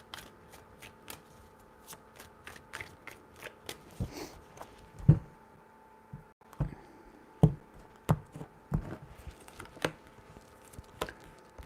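Tarot cards being shuffled by hand: a long run of crisp, irregular card slaps and riffles, close and fairly quiet, with louder snaps scattered through and no talk.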